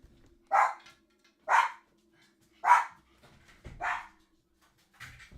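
A dog barks five times in a steady, evenly spaced series, each bark clear and fairly close, with the last one fainter; no one talks over the barking.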